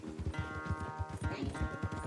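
Horses gallop in a race in the video game Red Dead Redemption, quick rhythmic hoofbeats thudding close and steady under a held musical tone.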